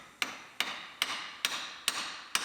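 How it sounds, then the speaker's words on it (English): A hammer strikes a long chisel driven into a wrecked Lexus IS250, six sharp metallic blows at a steady pace, each ringing briefly before the next, close and alone with no talk. "Got a long chisel in there, and we're just hammering on it."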